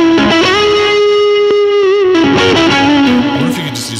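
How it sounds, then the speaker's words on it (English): Electric guitar played through AZOR compressor and overdrive pedals gives a loud, thick distorted tone: a held note bends and wavers, then shifts lower and sustains as it slowly decays, with no talk. "Let's see what the compressor sounds like with that overdrive."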